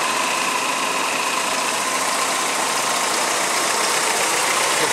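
A 1984 Toyota Celica GT's 22R-E four-cylinder engine idles close up, with a steady, even hum and no voices over it.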